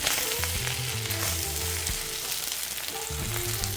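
Jerk salmon fried rice sizzles steadily in a hot pan while being stirred, a close, continuous frying hiss with faint scraping and no voices.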